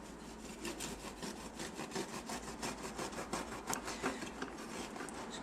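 A knife saws through a warm loaf of bread baked in a Morphy Richards bread maker, making quiet, rapid, rhythmic rasping strokes through the crust.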